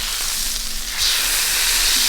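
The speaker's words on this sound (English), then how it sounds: "The steak is almost ready, so I'm going to add a little bit of butter to it." Steak sizzling on a Blackstone griddle as butter goes in, a loud close hiss that jumps brighter and stronger about halfway through, then holds steady.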